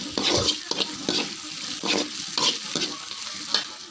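Cooked dal sautéing in a pan for a North Indian dish, with repeated stirring strokes scraping through a steady sizzle, close and fairly loud, in rhythmic bursts about every second.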